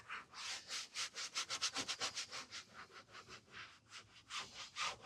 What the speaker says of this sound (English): Just want to really make sure you get those contaminants off the deck.